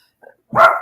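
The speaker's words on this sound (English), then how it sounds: "That's my dog barking, one of them." A dog gives one sharp, close bark right after a faint little whine, loud and short in an otherwise quiet room.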